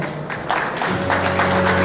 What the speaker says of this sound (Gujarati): થોડી તાળીઓ પડી